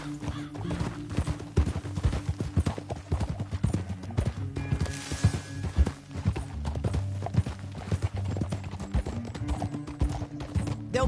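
A horse galloping in Red Dead Redemption 2, its rapid hoof clip-clops pounding in a steady driving rhythm for the whole stretch over a low music bed, with an occasional snort.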